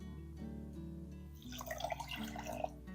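Water pours into white sugar in a pan while making vanilla paste, a soft trickling and dripping that swells after a steady low hum, sounding close and moderately loud.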